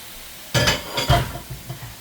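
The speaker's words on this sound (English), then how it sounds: "So what I want to do is put them in a nice pan" Chopped pork pieces dropping into a pan for a stewed pork dish: a sudden loud clattering thud, then a second burst of impacts and a few softer scattered knocks as the meat settles.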